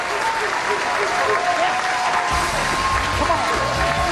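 A hometown bowling crowd applauds and cheers after a strike at a 2003 professional tenpin event, with dense sustained clapping that swells partway through and continues over a background commentator's voice.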